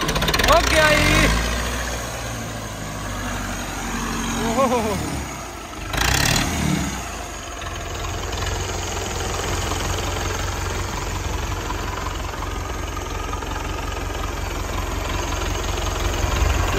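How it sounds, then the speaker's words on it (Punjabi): An old 1962 International tractor engine runs nearby with a steady rough chugging drone, briefly louder at the start and again around the middle before settling into an even idle. "ਇੰਟਰਨੈਸ਼ਨਲ ਟਰੈਕਟਰ ਹੈ, ਕੋਈ ਫੀਅਰ ਨਸਲ ਦਾ ਹੈ, 62 ਮਾਡਲ ਹੈ"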